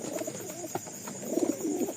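A pair of Tiger pigeons, a male and a female, cooing close by in soft, repeated throaty coos, heard plainly with no talking.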